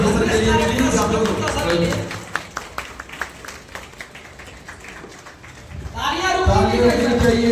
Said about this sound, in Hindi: एक बार जोरदार क्लैपिंग हो जाए।